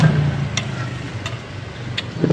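A motorcycle engine idles close by with a low, steady hum, broken by a few faint clicks, all on its own with no talking.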